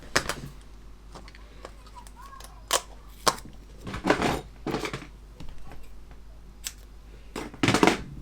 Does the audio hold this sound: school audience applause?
no